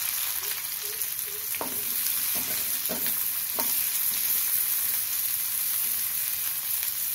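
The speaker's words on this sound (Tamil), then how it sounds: "கடுகு பொரிஞ்சிடுது, வெங்காயம் சேர்த்துக்கலாம்" Onion sautéing in hot oil with popped mustard seeds for a hibiscus-flower lentil kootu: a loud, constant close-up sizzle with a few brief stirring scrapes early on and no voices.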